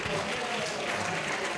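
Audience applause at a session of an international Arya conference hall gathering, a steady dense clapping texture lasting throughout, moderately loud and fairly near, with no talk over it.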